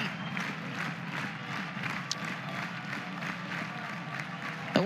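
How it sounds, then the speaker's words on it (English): A softball stadium crowd at an Oklahoma vs Houston game cheers and applauds steadily as fans stand, a dense continuous roar with a brief louder swell at the very end. "against a heavy hitter like Cantu, and the crowd, they're up on their feet."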